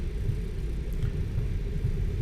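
MD80 airliner thrust reversers roaring just after touchdown in a flight simulator, a steady heavy low rumble that holds at constant loudness with no talk over it.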